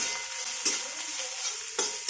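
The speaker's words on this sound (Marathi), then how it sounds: "आता ह्या खमंग फोडणीमध्ये जे बोंबील आपण धुवून ठेवलेले आहे ते घालूया आणि ते सुद्धा तेलामध्ये थोडेसे परतून घेऊया" Dried Bombay duck fish fries in hot oil tempered with spices, a soft continuous sizzle with two brief stirring scrapes as it is tossed in the pan, close and without talk.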